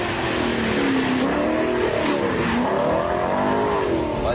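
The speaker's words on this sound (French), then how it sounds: "Alors c'est le V8 qu'il y a sur les Maserati, bien sûr. C'est celui de la Ferrari F430." An Alfa Romeo's V8, the same engine used in the Ferrari F430 and in Maseratis, revs hard and continuously, rising and falling in pitch through gear changes, loud and up close with no voices.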